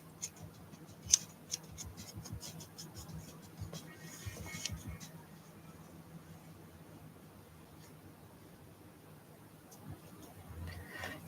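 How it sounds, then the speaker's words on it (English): Scissors snipping through fur while shaping a leg for a medieval cat art doll, a quiet close series of small irregular cuts with brief pauses, no talking. "these scissors just make it so much easier to work with this fur."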